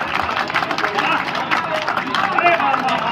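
Audience clapping for an eight-year-old boy's poetry recital, a steady mid-level patter of applause mixed with crowd murmur, continuing evenly throughout.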